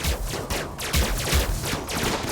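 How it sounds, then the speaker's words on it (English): Laser weapons in the RimWorld video game fire through energy shields during a battle, a dense, continuous barrage of rapid crackling shots that stays loud and busy throughout. "the lasers are shooting through the shields"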